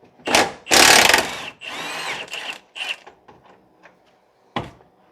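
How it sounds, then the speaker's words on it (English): A powered impact wrench works a lower control arm bolt on a 2009 Pontiac: several loud, close bursts of rattling hammering, one long and others shorter, separated by brief pauses and a final quick blast. "I'm just going to use an impact at the bottom"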